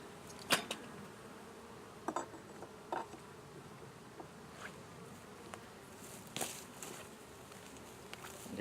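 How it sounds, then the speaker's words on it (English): Honey bees buzz steadily and faintly around a beehive being opened, a continuous drone broken by scattered soft clicks and knocks from handling the hive parts. "And it's got bees on it"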